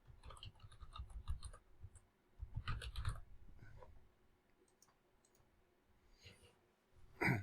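Computer mouse and keyboard clicks while saving a PDF export in QGIS: close, crisp taps in irregular clusters with quiet gaps, ending in a louder final click.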